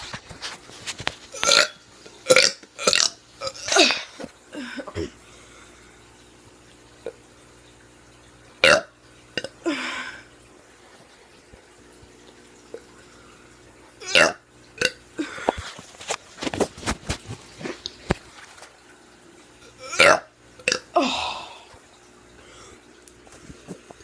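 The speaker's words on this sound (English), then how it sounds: "I'm gonna be doing some burps" A teenager burps repeatedly and loudly up close, a series of deep, drawn-out belches separated by short quiet pauses, with a few brief sounds between them.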